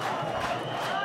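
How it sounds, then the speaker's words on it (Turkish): Karaman football supporters in a stadium crowd cheer on their team, a continuous roar of many voices sustained and fairly loud throughout a brief moment. "Dakikalarda Karaman seyircisi takımını desteğini arttırdı."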